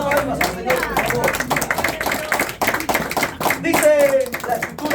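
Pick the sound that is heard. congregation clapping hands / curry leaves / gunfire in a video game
congregation clapping hands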